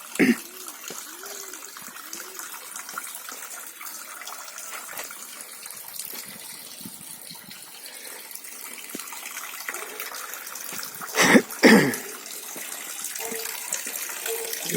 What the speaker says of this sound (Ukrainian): ось воно джерело.